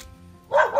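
A dog barks once, fairly near and short, in an outdoor setting while someone is out checking snake traps.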